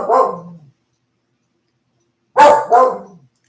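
A dog barks close and loud: one bark, a long pause of silence, then a quick pair of barks in succession.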